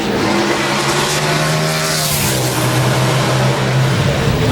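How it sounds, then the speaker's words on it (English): NASCAR race car engine at Bristol Motor Speedway during qualifying, a loud, close, sustained roar whose pitch holds steady and buzzes flat against the rev limiter, with a slight dip near the end. "Hear that rev limiter right there."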